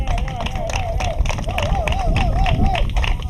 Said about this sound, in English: Can you give him a clap offering?